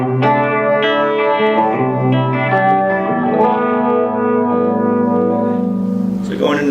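An electric guitar played through a phaser pedal rings out sustained chords and single notes with a sweeping, swirling tone, loud and close, with no talk.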